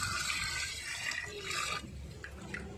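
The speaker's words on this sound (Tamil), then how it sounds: "இப்போ நம்ம தண்ணி ஊற்றியாச்சு." Water is poured into a cooking pot while chicken biryani is being prepared at home, a steady splashing, gushing stream that stays close and fairly loud throughout, with no voices.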